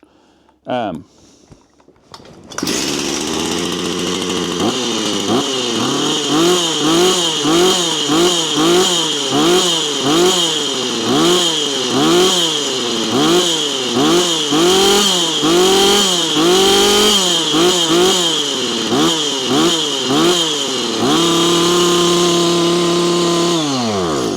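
A Husqvarna 455 Rancher chainsaw, fitted with a swapped carburetor and intake block, starts after a couple of pulls and runs loud and close on a dyno, its engine note surging up and down in a rapid rhythm before settling to a steady drone.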